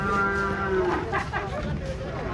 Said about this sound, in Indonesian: Kedatangan sapi unik ini.